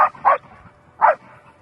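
A trained personal and family protection dog barks three times in short, sharp bursts, two close together and then one more after a pause, loud and close with no voices.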